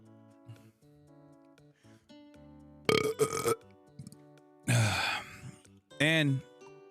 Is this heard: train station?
no